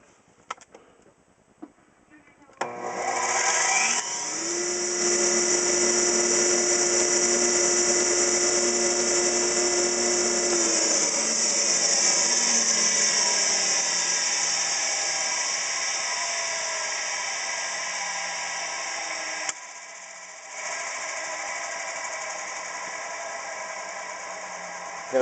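A dust collector driven by a rusty Westinghouse motor clicks, then starts up with a rising whine, settling into a loud steady hum and airy roar that runs continuously, briefly dipping near the end.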